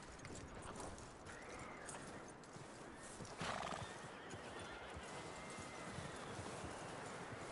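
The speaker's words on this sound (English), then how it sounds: "That looks like a decent horse." Horse in the video game Red Dead Redemption 2, steady clip-clop of hooves on the ground with a neigh partway through, fairly faint and heard alone without talk.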